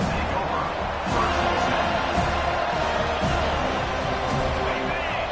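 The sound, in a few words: stadium crowd cheering at football game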